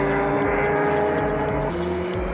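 Race cars roar into turn 1 at night, headlights on, with a dense, loud engine drone and revving engine notes filling the whole stretch and a hint of tire squeal.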